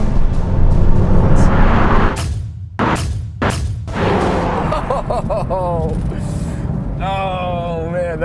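A Honda Civic Type R, 2023 model, accelerating hard in a roll race, a loud, dense engine roar throughout with sharp breaks at gear shifts and rising whine tones near the end, over excited shouting from people.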